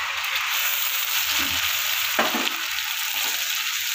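Ginger, garlic, dried chillies, coriander, cumin, Kashmiri chilli and turmeric powder sizzle steadily in hot oil in a pan, a close, continuous crackling fry with a few soft stirring knocks.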